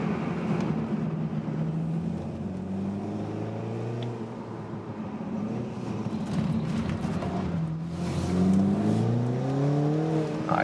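A BMW Z4 sDrive30i roadster with a four-cylinder engine and rear-wheel drive accelerates out of a corner, its engine note rising steadily and swelling near the end under road and wind noise.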